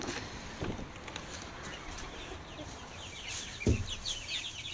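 Young chickens on a farm giving soft, scattered clucks and chirps against steady outdoor background noise, with a couple of brief louder knocks.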